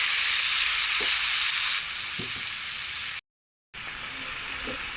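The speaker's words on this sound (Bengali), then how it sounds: "মাছ ভাজার তেলের মধ্যে আমি মেখে রাখা আলু, পেঁয়াজ, টমেটো দিয়ে দেবো।" Potatoes, onion and tomato fry in oil left from frying fish, giving a loud, close, continuous sizzle with a few stirring clinks. It breaks off into a brief silent gap, then resumes more softly.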